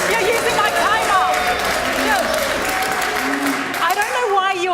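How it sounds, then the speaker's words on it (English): A studio audience at a televised political debate boos loudly, a sustained crowd roar with shouts and a few claps mixed in, while a voice speaks over it. "people are booing"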